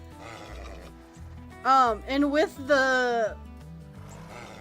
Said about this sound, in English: there's also overhauled horses from the overhauled livestock mod